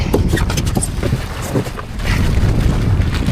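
Night wind on open water during a fishing outing, gusting and buffeting the microphone in loud low rumbles that swell and ease, with a quieter lull midway.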